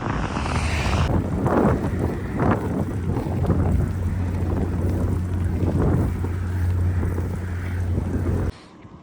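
Loud, steady headwind roaring over the microphone while cycling through open desert country in Saudi Arabia, a continuous buffeting rush with a low hum beneath, cutting off abruptly near the end.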